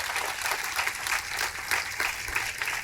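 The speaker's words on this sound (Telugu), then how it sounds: "తనకి ఒకసారి చప్పట్లు కొట్టండి" An audience claps steadily at a farewell gathering held at a girls' junior college in Vempalli, with the dense applause sustained and evenly loud throughout.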